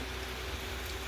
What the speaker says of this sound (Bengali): অনেক জোরে বৃষ্টি হচ্ছিল,